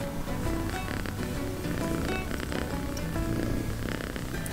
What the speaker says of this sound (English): The cats, by the way, as you can see, hate coming away in the caravan.